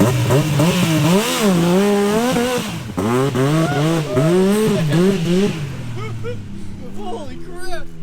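A Yamaha YXZ 1000 side-by-side engine revs hard near the rev limiter in mud, a loud close rising and falling wail with repeated swoops, then settles to a lower rumble near the end.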